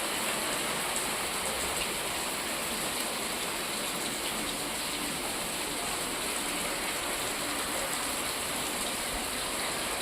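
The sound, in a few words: rain falling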